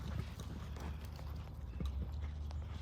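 Horse hooves clip-clopping at a steady walk during a riding lesson, rhythmic thuds close by over low rumbling background.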